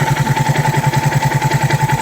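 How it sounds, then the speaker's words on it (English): Zontes motorcycle engine idling steadily after the choke is switched off, a close, even, fast-pulsing mechanical beat with a constant hum and slight clatter, running alone without voices. "I always use a fraction of throttle when I start it, so the engine, and you can tell by the tune is not about to stall."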